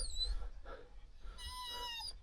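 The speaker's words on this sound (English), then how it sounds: "Hey, another dog." A dog on a foggy hiking trail up Mount Agung in Bali gives soft, high-pitched whimpers in two short bursts, quiet and close over low rumbling background noise.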